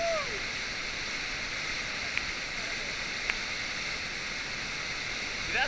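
A toilet flushes with a steady, rushing wash of water that holds at an even level throughout, with faint clicks and a brief tonal squeak at the start and end.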